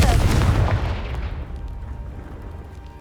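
Confringo blasting spell cast in the Hogwarts Legacy video game, a loud booming explosion at the start that decays into a long rumbling tail.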